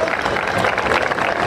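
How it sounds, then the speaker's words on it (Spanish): A crowd at a rodeo event applauds with dense, steady clapping and cheering that continues throughout, loud and with no clear break. "Véngase, por favor, Ángel Hernández, regálemele fuerte el aplauso"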